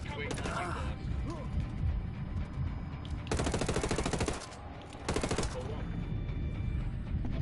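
Rapid automatic gunfire in Destiny 2, two long rattling volleys of tightly spaced shots, loud and close, with softer scattered shots and voice-like chatter around them.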